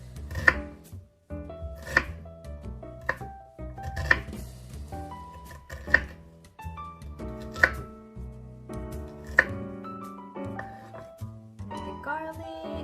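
A knife chops food for tomato and basil bruschetta on a cutting board in a home kitchen, with sharp, evenly spaced thuds, a few quicker chops near the end, and faint clinks of kitchenware.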